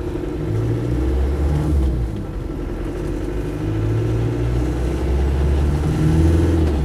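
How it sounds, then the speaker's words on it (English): A Land Rover Defender 90 300Tdi diesel engine pulls away under load, a deep, close, throbbing rumble that rises and falls slightly with the revs as the vehicle gets moving. "Engine pulls away, pulls nicely."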